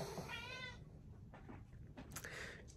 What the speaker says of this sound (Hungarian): De ilyen nyávogós macskával valaha ti találkoztatok?